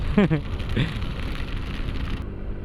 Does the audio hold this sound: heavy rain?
yes